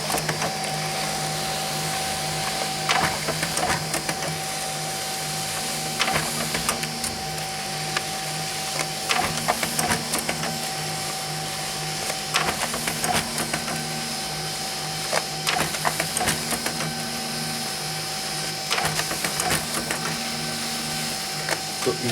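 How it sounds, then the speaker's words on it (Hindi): A printer runs continuously while printing phone contacts onto paper, giving a steady mechanical whir with faint, regularly repeating clicks and carriage movements, close by and with no talking. "सारे जो कॉन्टैक्ट्स हैं वो पेपर पर जो है वो प्रिंट आउट हो रहे हैं"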